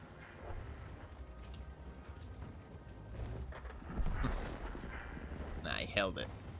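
In a tank video game, an enemy's shot strikes the player's turret amid a rumbling battlefield of artillery-like booms and engine noise, with a louder impact and metallic clang near the end under steady background din.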